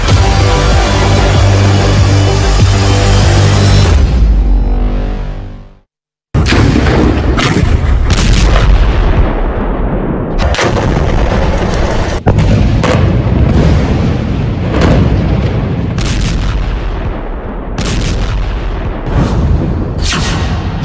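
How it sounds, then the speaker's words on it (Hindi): Explosions in war news footage from the Israel–Hamas conflict: loud, booming blasts and rumbling detonations, a sustained barrage, a brief silence, then a dense series of sharp bursts and heavy booms. "ये धमाके तो बहुत छोटे हैं"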